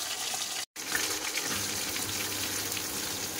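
A fish head fries slowly in a little oil in a pan on a gas stove, giving a steady, hissing sizzle with one abrupt brief dropout near the start.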